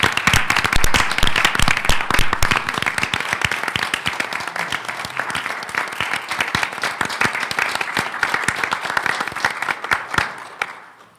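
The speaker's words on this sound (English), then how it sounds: "I'd like to ask the people that are left here to join me in an applause for your work." Audience applause at a school board action agenda meeting, a steady run of sharp overlapping hand claps from a modest crowd lasting about eleven seconds before fading out at the end.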